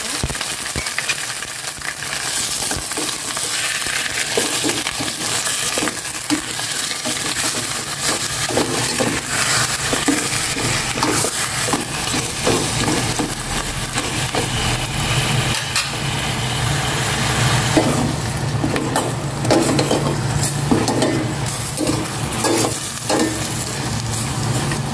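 Chicken pieces fry loudly in a hot pan, a constant dense sizzle broken by scraping and clinking as a utensil stirs them, with no talking.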